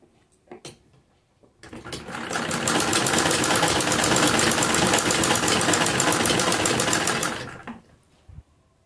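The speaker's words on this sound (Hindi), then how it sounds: "इसी गोलाई में हम इस तरह से कपड़ा सिलते हुए जाएंगे जिस गोलाई में हमारी बाजू है।" A sewing machine stitches a half sleeve with piping, running in one continuous rapid mechanical chatter for about six seconds, loud and close, starting and stopping abruptly with only faint handling noise around it.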